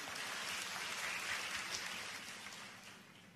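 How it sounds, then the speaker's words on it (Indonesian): A church congregation applauds in a dense, hissing wash of many hands that fades off toward the end, faint and distant with no talking. "Berikan tepuk tangan yang meriah."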